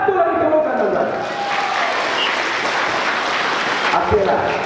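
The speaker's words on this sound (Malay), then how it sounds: "Satu lagi tepukan tuan-tuan" Applause from an audience at a political gathering in Temerloh, a broad steady wash of clapping that runs the whole time, fairly loud, with crowd noise and speech mixed through it.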